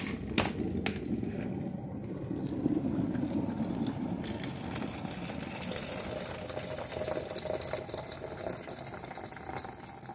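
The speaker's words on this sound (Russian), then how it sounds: "Чайник закипает у меня." An electric kettle coming to the boil gives a continuous low rumbling and bubbling hiss with a few faint clicks, steady and close in a quiet room.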